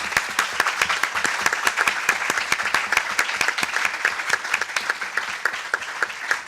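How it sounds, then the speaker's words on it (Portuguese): Seminar audience applauds the students, a steady wash of clapping with some distinct close hand claps standing out sharply throughout. "Uma salva de palmas para eles."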